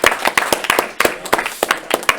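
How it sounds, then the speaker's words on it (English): Audience at a game jam showcase claps in scattered, uneven bursts, a small crowd's applause heard close with sharp individual hand claps. "Huge round of applause for everyone."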